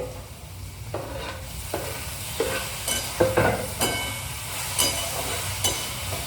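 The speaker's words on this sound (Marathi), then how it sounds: "टोमॅटो टाकतीये" Tomatoes go into a hot frying pan for homemade chicken biryani, with an even background sizzle broken by repeated scraping and clinking stirs of a spoon against the pan.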